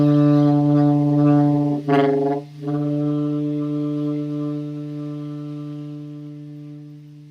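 A single low B on a saxophone held for several seconds, rich and buzzy, with a brief wobble partway before it fades gently.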